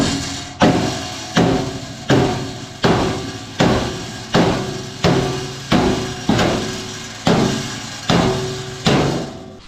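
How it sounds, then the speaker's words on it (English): A hammer bashes the radiator support panel on an XY Falcon under restoration, about a dozen loud, evenly spaced metallic blows ringing close by, each decaying before the next. "Bash it with a hammer and it works."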